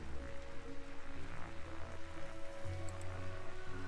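Steady rain patters in Darkside Detective at night, a continuous soft hiss of drops with a low droning hum beneath, moderately loud and unbroken.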